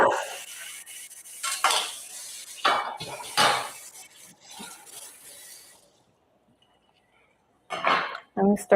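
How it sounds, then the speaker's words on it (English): Soup gets stirred in a pot in a home kitchen, with a spoon clinking and scraping against metal in bursts, pausing into near silence before a few more clinks at the end; a voice talks faintly in places. "Let me stir the soup."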